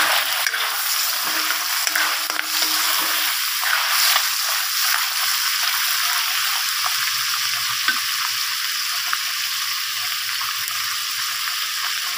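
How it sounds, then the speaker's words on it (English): Chop suey simmers in a covered pan, producing a steady, fairly loud sizzling hiss that continues evenly throughout with no voices. "Then we can put on the lid and let it simmer for about 2 minutes."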